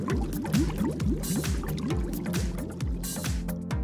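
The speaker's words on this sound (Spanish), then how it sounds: "Lo vamos a sumergir en un bote con agua." Floral foam is pushed under the water in a container, and a steady run of close gurgling glugs follows as air bubbles escape in a quick repeating rhythm.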